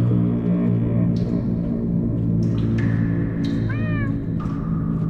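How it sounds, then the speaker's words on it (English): Cats meowing in the video game Minecraft: Story Mode, several rising and falling meows in a row over a steady game music bed, fairly close and clear. "That almost sounds like... cats?"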